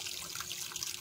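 Running water in a neighborhood garden, a continuous splashing trickle with bright bubbling bursts, close and steady, heard alone.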